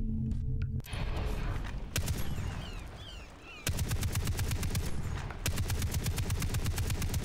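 In the Far Cry 3 video game, a DShK heavy machine gun fires rapid, loud bursts of booming shots in two long runs, with a short, quieter lull between them.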